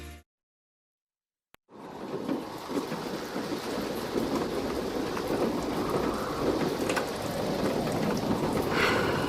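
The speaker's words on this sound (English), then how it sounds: "Rain flying at him." After a brief silence, steady heavy rain falls, a dense continuous hiss that stays loud and even throughout, with a low rumble underneath.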